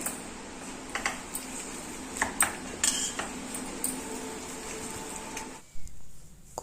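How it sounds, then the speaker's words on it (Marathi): Boiled potatoes are mashed in a pan with homemade ghee. A utensil gives scattered light clinks and taps against the metal, fairly quiet, ending in a brief louder knock. "मॅश करून घेते बटाटे"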